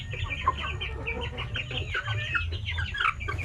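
Native chickens on a farm cluck and chatter continuously at close range, several birds overlapping with no talk.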